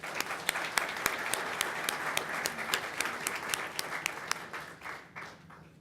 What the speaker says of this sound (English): I'd like to give not only the honorees a hand of applause before we start, but also the family members and guests who are here